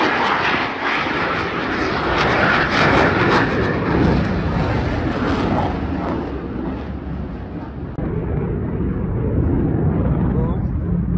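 A light aircraft throttles up during a low pass over grass, its engine roaring loud and close and then fading away as it climbs. Voices are heard under it.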